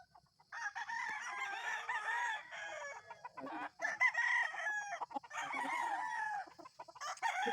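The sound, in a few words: roosters crowing and chickens clucking in a chicken coop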